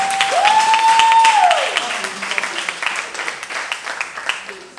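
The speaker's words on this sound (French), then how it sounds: "Applaudissez-vous très fort." Concert audience applauding loudly after being urged by the performer, a dense wash of clapping that swells with a sustained tone early on, then fades to scattered claps and crowd noise.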